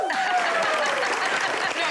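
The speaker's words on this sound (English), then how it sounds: "you guys are really in a clapping mood today" Studio audience on a cooking show applauds in a dense, continuous burst of clapping that stays steady and fairly loud throughout, briefly overlapping a faint voice at the start.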